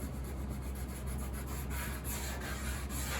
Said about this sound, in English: You know what fixes that good? A brass brush.